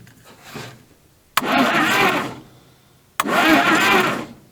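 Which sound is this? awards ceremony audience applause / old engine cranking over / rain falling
old engine cranking over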